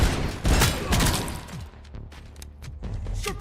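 Rapid gunfire from the RoboCop arcade video game, bursts of loud sharp shots and crashes early on, then sparser distinct blasts and impacts over a low rumble.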